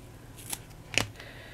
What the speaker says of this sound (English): you snip the hair, which is here, and you just snip the row you want